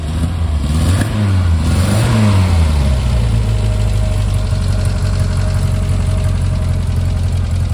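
A 1969 Renault 10 engine running close by, loud and steady, with a couple of quick revs early on before settling into an even idle.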